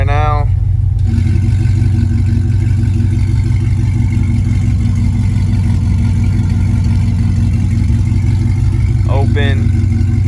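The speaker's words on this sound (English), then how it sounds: "So we got closed valves right now." A Cadillac CTS-V with a new exhaust rumbles loud and close with its exhaust valves closed, a heavy steady drone throughout, while someone speaks briefly at the start and again near the end.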